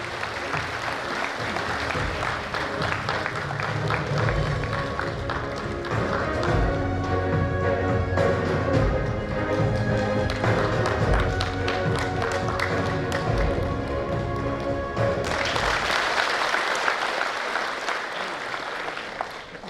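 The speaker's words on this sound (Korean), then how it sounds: "여러분, 환영의 큰 박수를 다시 한번 보내주시기 바랍니다" A hall audience at a county governor's inauguration ceremony in Hadong, South Korea, claps steadily in welcome while tonal music plays underneath, the sound holding at an even level before briefly thinning near the end.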